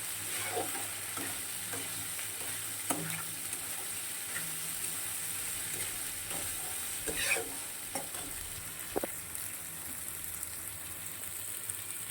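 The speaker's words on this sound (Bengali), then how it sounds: "আমি একদম কম মশলাতে রান্না করছি পনিরটা" Paneer fries in a pan with very little spice, giving a continuous close sizzle and crackle with occasional stirring scrapes and taps, steady and even throughout with no voices.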